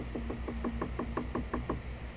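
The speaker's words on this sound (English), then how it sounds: "someone's knocking on your door." Someone raps on a door with a quick, even run of about ten hollow knocks, close and fairly loud, over a low steady hum.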